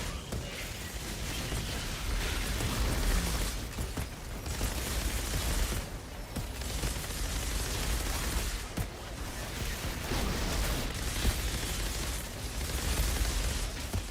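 Dense, continuous bursts of gunfire and explosions in a chaotic sci-fi shooter battle, layered booms and rattling pops running without a break at steady loudness, no talking.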